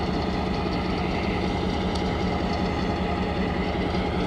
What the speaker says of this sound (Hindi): 15 का मतलब है ये 1500 हार्स पावर का लोकोमोटिव है